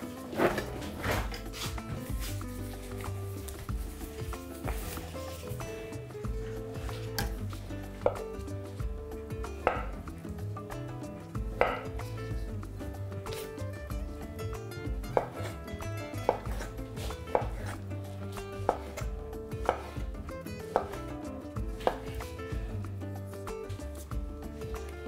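A knife chops boiled beetroot into sticks on a board, with irregular sharp taps and thuds near the listener repeating over a long stretch, plus occasional clatter from utensils and no speech.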